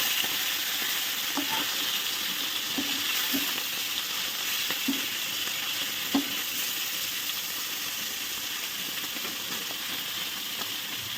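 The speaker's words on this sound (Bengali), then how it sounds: "দেখো মাছ ভাজা বসিয়ে দিয়েছি" Fish fries in a pan with a steady, loud sizzle that runs throughout, marked by occasional soft scrapes and taps of stirring, with no voices.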